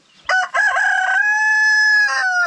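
A single rooster crows once, loud and close: a short opening note, then a long sustained tone that dips at the end.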